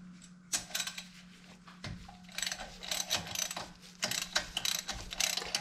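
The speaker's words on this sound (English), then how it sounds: "We have to remove this 10 millimeter bolt to loosen up the bracket." A ratchet wrench working loose a 10 millimeter bolt on the brake bracket of a 2013 Porsche 911 (991), with close, crisp bursts of rapid clicking repeated several times over a faint steady hum.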